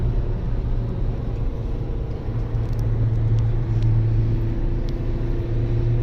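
Renault Megane 2 engine running on a test drive after a full rebuild, a steady, even drone with low rumble throughout and no speech.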